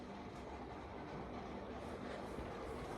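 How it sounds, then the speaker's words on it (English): Air conditioner and fan running indoors, a faint steady whirring hum with a low tonal drone, continuous and unchanging. "I'll have to turn on the air conditioner for once."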